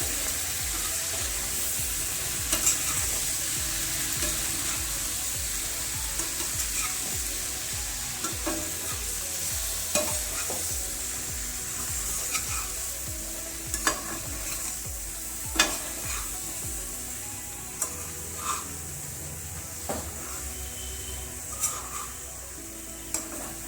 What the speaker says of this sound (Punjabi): ਹੁਣ ਆਪਾਂ ਇਹਨਾਂ ਨੂੰ ਮਿਕਸ ਕਰ ਲਵਾਂਗੇ